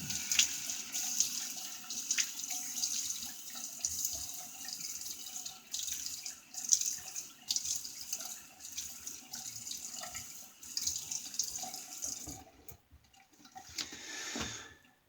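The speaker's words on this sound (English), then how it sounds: "let me get my face wet first" Tap water running steadily into a sink while a face is wetted before a wet shave, a continuous close splashing hiss with small splashes, cut off near the end before a few last drips.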